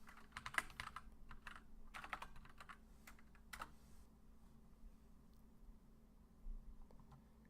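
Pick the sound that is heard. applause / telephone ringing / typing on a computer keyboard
typing on a computer keyboard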